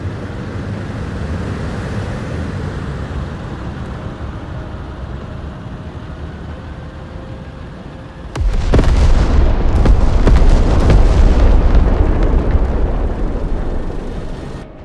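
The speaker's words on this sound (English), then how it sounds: "Ballistic missiles! Get off the road," Ballistic missiles strike in the Broken Arrow military strategy game: after steady windy rumble, a sudden massive blast erupts halfway through and rolls on as a loud, sustained roar of explosions.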